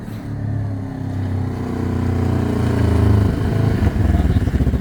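A Segway Fugleman buggy engine runs loud and close, a steady low rumble that climbs slightly in pitch before settling into a choppier idle.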